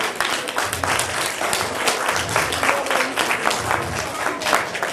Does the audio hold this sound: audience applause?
yes